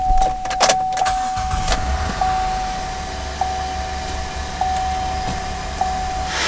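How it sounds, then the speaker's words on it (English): A 2007 GMC Acadia engine starts and settles into a steady idle, a close, even low hum with a faint whining tone above it and a few brief clicks. "So we'll start the vehicle."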